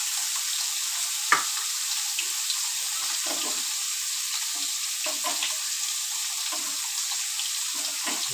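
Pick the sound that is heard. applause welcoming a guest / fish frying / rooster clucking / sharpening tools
fish frying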